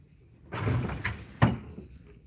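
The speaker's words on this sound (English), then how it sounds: "So there's the inside, and then here's the drawer." Wooden drawer of an antique walnut cabinet sliding open, a short scraping rumble followed by a sharper knock, close by in a quiet shop.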